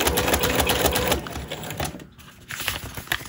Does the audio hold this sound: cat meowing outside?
no